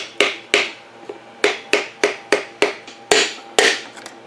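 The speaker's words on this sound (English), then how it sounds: "Line the piston up, give her some nice taps." A series of about ten sharp knocks from a wooden hammer handle tapping a piston into a small block Chevy engine, evenly spaced and close, each ringing briefly with a metallic tap.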